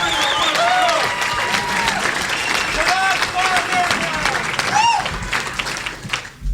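A large crowd applauds steadily at a Dean for America political event, dense loud clapping with scattered cheers and whoops filling the whole stretch.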